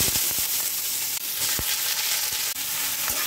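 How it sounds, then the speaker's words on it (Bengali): Cumin, bay leaf, cardamom and chopped onion fry in hot oil, a steady close sizzle running throughout with a few soft stirring knocks, no voices. "পেঁয়াজ কুচিটা একটু হালকা হালকা ফ্রাই করব।"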